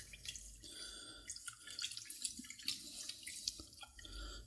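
Rice being rinsed in a sink: faint water splashing, dripping and swishing in irregular bursts, quiet and close with no voices.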